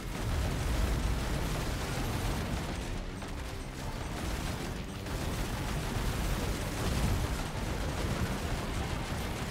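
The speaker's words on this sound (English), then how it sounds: "Can't hide from my fireballs." Fireball explosions in Risk of Rain 2 roar as a dense, continuous barrage of booming blasts and crackling bursts, loud and unbroken throughout with no talk.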